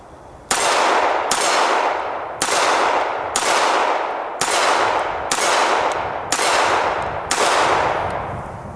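Sterling M-400 pistol firing silver tip rounds, eight sharp loud shots spaced roughly a second apart, each with a ringing echoing tail that decays before the next.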